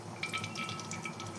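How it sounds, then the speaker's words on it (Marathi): Ghee poured into a kadhai already heated on the stove, making steady close liquid pouring and dripping sounds for about a second and a half, with no voices. "इथे मी तूप टाकून घेत आहे"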